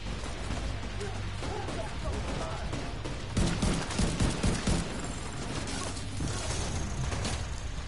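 Rapid gunfire in The Division 2 video game rattles in dense bursts over a constant background din, growing heavier and louder partway through.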